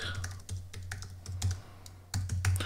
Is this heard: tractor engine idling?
no